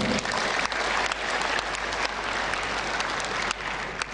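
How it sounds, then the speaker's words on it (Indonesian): Steady, dense applause from a large audience at a university graduation ceremony in a hotel ballroom, loud and continuous throughout with no talking over it. "Tepuk tangan."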